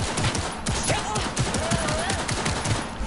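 Rapid automatic gunfire in the shooter Cyberpunk, loud dense bursts of shots rattling continuously for a few seconds, with a voice talking over the shooting.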